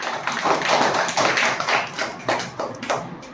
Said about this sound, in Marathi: कल्याणीसाठी जोरात टाळ्या